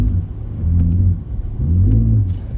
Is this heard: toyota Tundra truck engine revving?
yes